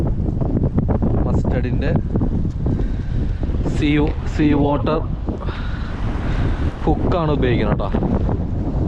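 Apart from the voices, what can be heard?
strong wind during a storm while fishing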